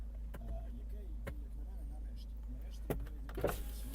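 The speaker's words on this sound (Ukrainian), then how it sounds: "Склопідйомники працюють." Power windows on a petrol Opel Zafira 1.8 whir with a steady low motor hum inside the car, ending in a few small clicks and thumps near the close.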